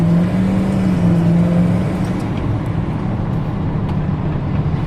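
A 1996 Ford F-250 4x4 extra cab pickup with a 460 engine, heard from inside as it shifts through gears: a steady loud engine drone that drops in pitch at a shift, with continuous road and wind noise.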